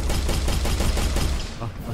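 Gunfire in the Poppy Playtime video game, a continuous rapid burst of loud shots for about one and a half seconds, close and dense, fading slightly at the end.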